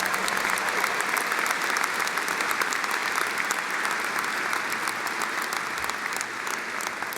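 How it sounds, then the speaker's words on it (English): Sustained applause from a large crowd at a university undergraduate commencement ceremony in Nebraska, steady dense clapping filling the hall throughout with no talk over it. "Let's give him another big round of applause."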